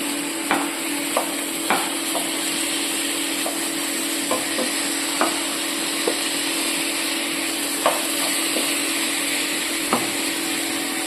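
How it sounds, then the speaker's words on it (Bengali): Chicken pieces fry in mustard oil in a wok, a loud continuous sizzle broken by sharp, irregular clinks and scrapes of a utensil stirring. "প্রথমে কড়াতে আমি অল্প একটু সরষের তেল দিয়ে দেব। এরপর মাংসগুলো দিয়ে দিচ্ছি।"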